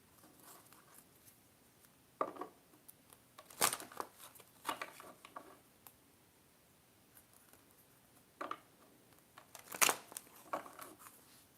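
Quiet, sporadic bursts of crisp rustling and snapping as tarot cards are shuffled and tapped together, several separate flurries with near silence between them.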